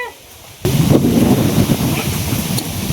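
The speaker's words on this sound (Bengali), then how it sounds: "এ বাতাস রে।" Strong storm wind with rain suddenly rises into a loud, continuous roar and buffets the microphone close by, holding steady to the end.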